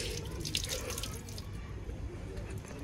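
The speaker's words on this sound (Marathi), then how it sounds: "तर इथे हातपाय धुवायचं चालू आहे." Running water as people wash their hands and feet at a temple entrance, a dense continuous splashing and hiss that stays loud and steady throughout without any break.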